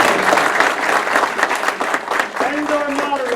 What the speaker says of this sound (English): can we have a big hand of applause for our candidates?